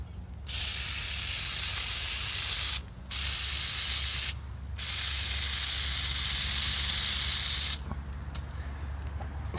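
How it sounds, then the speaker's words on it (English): Oven cleaner hisses from an aerosol can onto engine valves in three long, steady bursts with brief pauses between them, close and fairly loud against a faint background. "And I'm just using oven cleaner."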